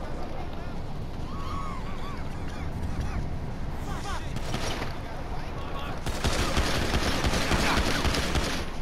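Rapid gunfire crackles through a police shootout in Grand Theft Auto V, dense and steady throughout and swelling into a louder, heavier barrage toward the end, with voices talking underneath.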